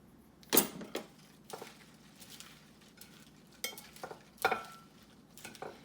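Turkey bacon Cobb salad being tossed with dressing, giving soft intermittent clinks and scrapes of utensils against a bowl with quiet pauses between, close and fairly faint with no talking.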